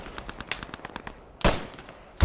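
Gunfire in the World War II shooter game Post Scriptum: a quick run of faint rattling shots, then two louder, sharper bursts close by.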